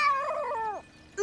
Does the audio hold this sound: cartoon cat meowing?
yes